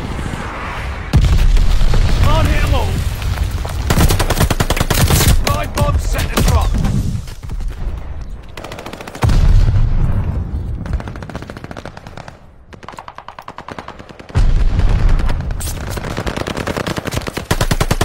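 Video game strafing run over a hardpoint in bocage countryside: loud sustained bursts of rapid machine-gun fire with heavy booming explosions, several long volleys separated by brief lulls, with little talk.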